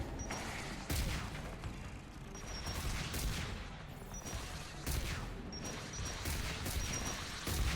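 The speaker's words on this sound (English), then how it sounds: "How many rockets are shooting at me right now?" Rockets and gunfire in the video game Mass Effect 3: a continuous barrage of distant-sounding blasts and rattling shots, with sharper explosive impacts recurring every second or so over a dense background roar.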